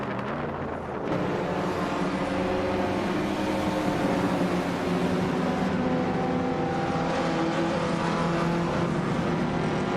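AI-driven race cars in a video game roar continuously in a dense, steady engine drone that persists for the whole stretch, with no talk over it.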